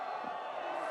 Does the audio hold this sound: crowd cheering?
yes